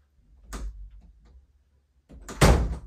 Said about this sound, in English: Close the door, please.